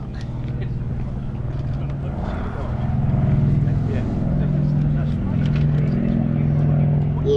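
A 1938 Lockheed 12A Electra flies past at the Sywell Airshow 2024. Its steady, droning piston-engine hum swells slightly as it passes, while a commentator talks over it.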